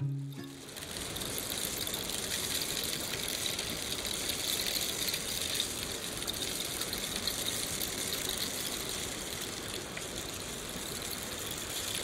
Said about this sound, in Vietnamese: Nó được gọi là Rainstick.